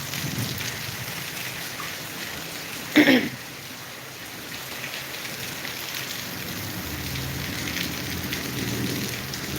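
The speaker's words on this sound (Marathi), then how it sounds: "कंटिन्यू पाऊस चालू आहे रात्रभर सतत धार असा पाऊस चालू आहे" Heavy, continuous rain pours steadily throughout, with a brief sharp noise near the start briefly standing out above the downpour.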